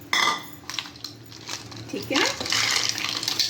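Ice goes into a blender already holding grapes for a grape soda drink, with a few sharp clinks and rattles against the jar, spaced out and fairly near, while someone speaks briefly.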